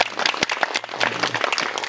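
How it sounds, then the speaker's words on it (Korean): Church congregation applauding during a Marian evening service, a close, lively burst of many hands clapping at once, dense and fairly loud, with a few sharp individual claps standing out. "박수 한번 부탁드립니다."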